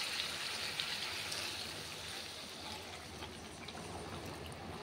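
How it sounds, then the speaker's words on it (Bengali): Heated water is poured into a pot of cooking fish and potato curry, a soft, continuous splashing trickle that runs throughout at low level. "জলটা দিয়ে দেবো।"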